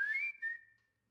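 A person whistles in imitation of a bird's song: a short, bright phrase of sliding, warbling notes, then a brief pause and a second note that fades away, heard alone with no talking.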